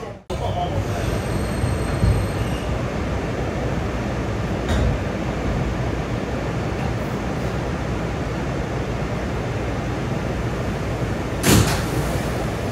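A new Staten Island Railway R211S subway train runs along the line, giving a steady, loud rumble of wheels and car noise with brief clanks and squeals, close and continuous throughout.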